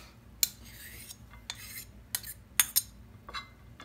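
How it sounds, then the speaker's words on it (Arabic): A spoon scrapes and clinks against a dish as meat sauce is ladled over it, making a handful of sharp, close metallic taps and scrapes spaced irregularly in a quiet kitchen. "طبعا هنجيب صوص اللحمه برضو نحطه عليه هنا اهوت"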